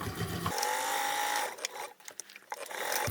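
A sewing machine reverse stitches across the binding of a large foldable tote bag: a quick close run of stitching, a short pause with light handling noise, then the motor starts again.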